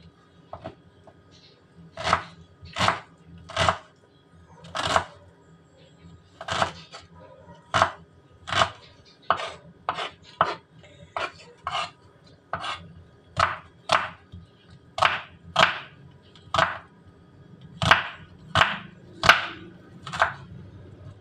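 Onions sliced with a knife on a board: a close, steady run of about two dozen crisp chops in uneven bursts, with no talk.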